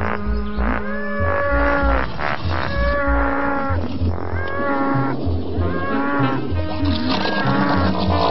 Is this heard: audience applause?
no